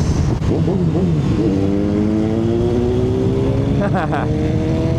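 A Honda X-ADV 750 scooter accelerating hard in sports mode on the twisty Marilaque mountain road, its engine note climbing steadily in pitch, loud and close under wind rush, with a brief overlapping higher engine near the end.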